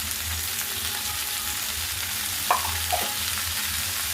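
Dondakaya, or ivy gourd, with coconut, salt and turmeric being stirred in a pan on low heat, a soft steady sizzle broken by a couple of sharp spatula scrapes against the pan.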